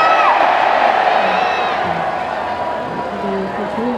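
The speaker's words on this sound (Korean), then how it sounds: "이 화이팅 한번 크게 외쳐볼까요?" Concert crowd at a Korea University campus festival shouts loudly together and cheers, a roaring mass of voices with whoops and high yells that swells at first and then tapers into scattered shouts.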